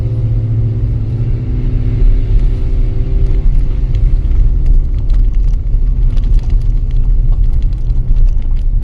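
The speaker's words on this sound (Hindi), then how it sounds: "ये देखो पहले गियर पे चल रही है गाड़ी।" A car crawls in first gear along a rough mountain road near a water crossing in Spiti Valley, its engine a loud, steady, strained rumble heard from inside the cabin with faint rattles and knocks.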